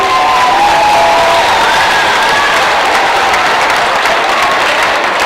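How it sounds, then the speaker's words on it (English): A school crowd at a pink-out celebration applauds steadily with scattered cheers and whoops, a dense, loud wash of clapping that fills the space from start to finish. "Let's give them a round of applause."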